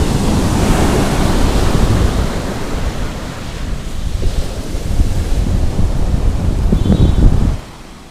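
Wind and sea waves at Alappuzha beach make a loud, continuous rushing roar with heavy wind buffeting the microphone, the surge swelling and easing before dropping off sharply at the end.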